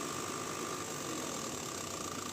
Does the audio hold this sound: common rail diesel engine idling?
yes